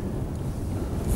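Strong mountain wind buffets the microphone with a loud, steady low roar and rumble throughout, no voices present.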